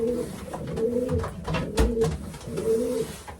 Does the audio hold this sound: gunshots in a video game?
no